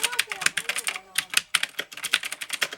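Close, loud clacking of a gaming keyboard with rapid, irregular bursts of keystrokes in a home desk setup, sharp clicks running continuously with brief pauses between flurries.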